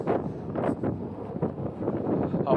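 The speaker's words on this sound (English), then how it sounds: "Sorry, it's windy." Wind gusting outdoors in a parking area with cars about, low buffeting rumble against the microphone that rises and falls over a couple of seconds.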